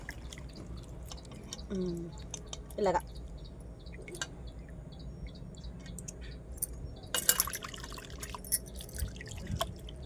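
A goat brain is rinsed in a bowl of water, giving sparse drips, light splashes and small clinks under steady talking.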